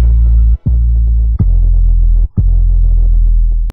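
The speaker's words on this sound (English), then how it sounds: "I get a generic trap 808." A deep, sustained trap 808 bass plays loudly in long droning notes, cut by a few brief gaps where the bass drops out and retriggers.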